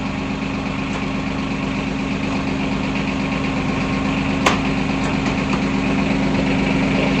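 A farm tractor engine idles steadily close by, a constant low rumbling drone with a brief click partway through and no talking.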